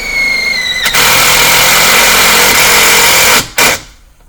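A power drill drives a ground ring screw into the body of a 2000 Ford F-150 pickup, a loud steady whirring whine for about two and a half seconds that stops abruptly, then one brief final burst.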